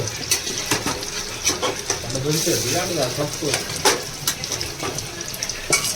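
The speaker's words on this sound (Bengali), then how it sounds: "একটু পকোড়া ভাজছে" Chicken pakoras frying in hot oil at home, a busy crackling sizzle with scraping and stirring clatter mixed in, close and steady across the whole stretch, with a voice briefly audible in the background.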